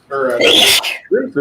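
A single loud sneeze bursts out at close range during a livestreamed tabletop game session, and a voice speaks right after it.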